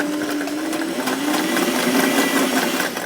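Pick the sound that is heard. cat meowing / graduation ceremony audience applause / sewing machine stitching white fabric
sewing machine stitching white fabric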